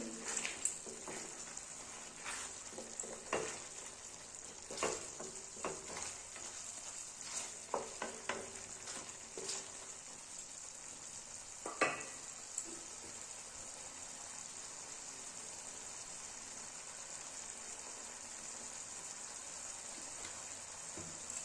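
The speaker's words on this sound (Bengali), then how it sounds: "এরপর আমি একটু এর উপর সরষের তেল ছড়িয়ে দেব।" Bitter gourd vegetarian curry with mustard oil sizzles in a pan with a steady, close frying hiss. Sharp crackles and pops stand out in the first twelve seconds, then the sizzle settles to an even sound with no talk.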